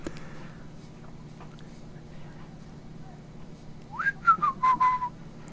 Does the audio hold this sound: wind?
no